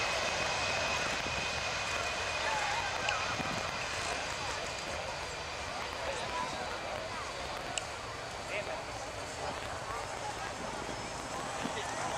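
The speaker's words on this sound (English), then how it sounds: "the C-17 takes the skies" A Boeing C-17 military jet transport flies at the Dayton Airshow, a steady broad engine roar filling the air throughout with little change, distant crowd and announcer sounds underneath.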